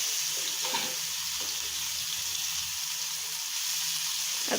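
Onion fries in hot oil with curry leaves and cumin for a Kanyakumari bitter gourd dish, a continuous close sizzle with faint scraping of stirring throughout, no talking.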